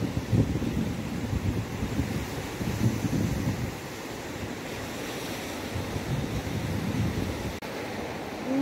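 Ocean surf washes steadily onto a beach at Pagudpud in Ilocos Norte, Philippines, a continuous broad rumble of breaking waves with wind buffeting the microphone. Nobody speaks.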